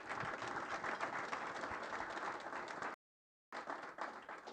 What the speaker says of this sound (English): please give a little round of applause for Rishi and Paul